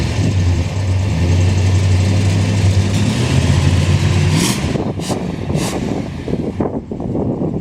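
A 1967 Chrysler Newport sedan with a single exhaust idles loudly and steadily up close with a low, even rumble, then the tone shifts and the engine note fades, with a few sharp bursts over it near the end.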